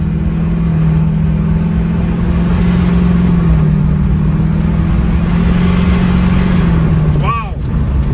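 Steady low engine drone from a 2004 GMC Sierra pickup truck with a cold air intake running close by, holding an even pitch, with a brief higher whine sweeping near the end.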